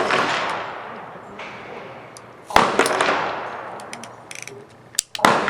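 Handgun shots at an outdoor shooting range: a few sharp, loud reports with ringing decay, spaced seconds apart, over faint background noise.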